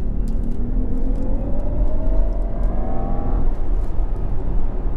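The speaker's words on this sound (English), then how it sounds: "When you put it into dynamic, not only does it cancel the anti-noise, it adds an artificial noise." A 2018 Jaguar I-Pace electric SUV in dynamic mode gives off a synthetic drive sound, a smooth whirring hum that rises in pitch over a steady road rumble, heard from inside the car.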